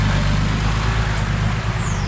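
A farm tractor reverses on a laterite dirt track, its engine droning loudly and steadily up close with a deep low hum for about two seconds.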